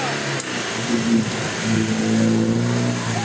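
An off-road 4x4 engine revs and strains nearby at a muddy event, a continuous loud drone rising and falling in pitch as the throttle opens.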